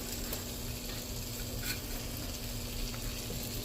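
Salmon sizzles in melted butter in a frying pan, a steady, dense crackling hiss that runs unbroken throughout with faint spatters.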